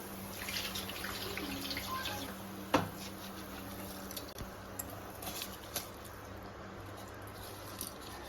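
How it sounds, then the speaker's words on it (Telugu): Water pours and trickles steadily as soaking water is tipped off raw rice in a kitchen, with a few small clinks and taps of the vessel against a faint background hum. "ఇప్పుడు బియ్యం వేసుకుందాము, నీళ్ళని వంపేసి వేసుకుందాము"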